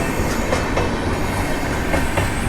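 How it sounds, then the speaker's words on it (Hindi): Bhubaneswar LTT Express, a long-distance passenger train, rumbling past nearby with a steady heavy roar and rhythmic clickety-clack of wheels over rail joints, no voices. "ये सामने जा रही है, देखिए, भुवनेश्वर LTT एक्सप्रेस।"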